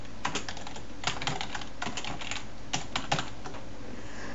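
Computer keyboard typing of C++ code, scattered bursts of key clicks in uneven clusters, fairly near, with no voices.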